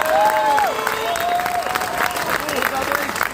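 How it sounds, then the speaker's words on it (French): A dockside crowd at the Vendée Globe finish applauds and cheers skipper Fabrice Amédée, brisk clapping mixed with shouts and whistles, with voices talking over it. "Encore des applaudissements pour Fabrice,"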